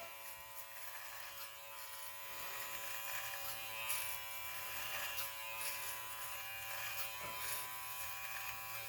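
A Brio Beardscape Pro beard trimmer buzzes steadily and close while trimming a goatee, its hum changing slightly as it passes repeatedly over the hair, with no talking.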